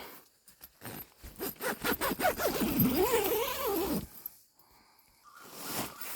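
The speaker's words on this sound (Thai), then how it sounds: "ปิดซิปก่อนเป็นพี่น้อง" A zipper on a travel bag is pulled closed in a series of quick, close rasping strokes, ending in one longer zip before quieter handling noises.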